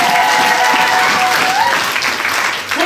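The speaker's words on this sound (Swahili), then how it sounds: "Hebu piga makofi kwa Isaka kama leo" A church congregation claps hands together during a Swahili sermon, a dense, steady burst of applause filling the whole moment, loud and close, with a few voices mixed in.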